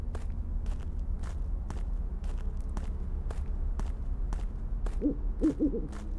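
Several soft, low hoots of an eagle owl near the end of a stretch of footsteps and ambient game noise in the video game Skinwalker Hunt, coming in a short cluster.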